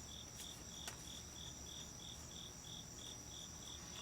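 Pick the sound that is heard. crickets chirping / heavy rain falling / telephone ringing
crickets chirping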